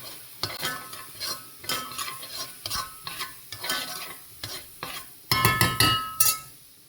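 Paprika, cumin, oregano and black pepper toasting in a pan, a spoon stirring and scraping in rhythmic strokes over a light sizzle, with a louder flurry of clinks near the end.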